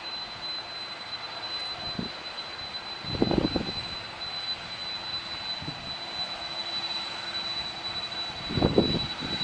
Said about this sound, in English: First time in an airplane.